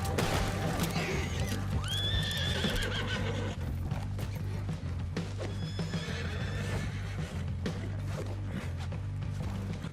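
A horse whinnies loudly in Red Dead Redemption 2 Online, then again a few seconds later, over hooves clopping and a steady low game hum.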